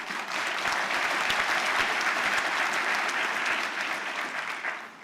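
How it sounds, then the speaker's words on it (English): An audience at a university graduation ceremony gives a sustained round of applause, a dense, even wash of clapping that holds steady and tapers slightly at the end, with no talk over it. "may you give her a round of applause."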